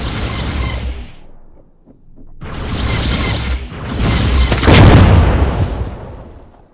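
A light tank blowing up in a war video game, heavy booming explosion bursts that rumble loud and close, fading briefly before a second, bigger blast.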